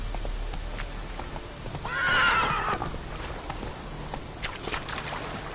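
Horse hooves clip-clop steadily in The Witcher 3 video game, with a loud whinny rising in the middle over continuous game ambience.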